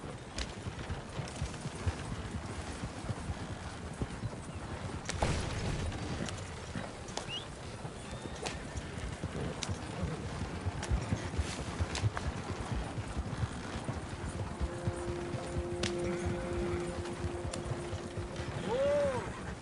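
A horse's hooves clip-clop at an even pace in Red Dead Redemption 2, with faint creaks of tack and gear and a brief whinny, all over a low game ambience.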